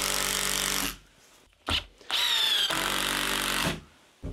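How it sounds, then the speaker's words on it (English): Power drill driving screws into the wooden posts of a garden obelisk, several loud sustained whirring runs broken by short pauses, close and dominant. "I'm going to drive some screws down just to lock it into place"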